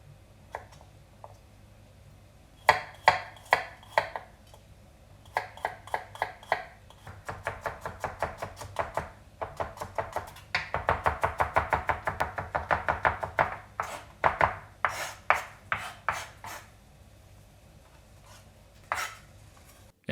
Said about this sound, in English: So first we'll start mincing the garlic.